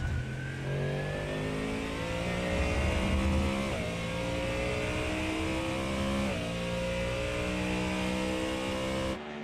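A Ford Mustang GT3 engine in a racing video game roars steadily and loud at Shell V-Power Motorsport Park, revving up through the gears with rising pitch sweeps and brief drops at each shift.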